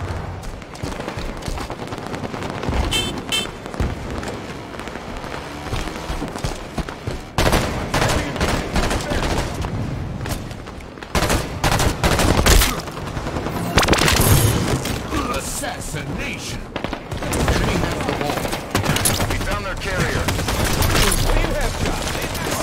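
Dense, continuous gunfire and booming explosions from a Halo 5: Guardians online match, with rapid bursts and heavy impacts layered loudly throughout, and a voice calling out over the action.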